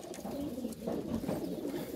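Loft pigeons kept by a breeder coo softly and continuously, a low murmuring close by against a faint background, with no talking.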